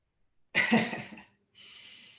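A single harsh, close cough bursts out, followed after a short pause by a soft, breathy exhale.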